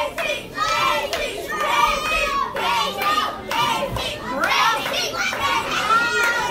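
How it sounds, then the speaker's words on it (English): A small wrestling crowd in Marydale cheers for Kacee Carlisle during an intergender championship match, with many young-sounding voices shouting and calling out continuously at close range. "Our great crowd here in Marydale getting behind Kacee Carlisle"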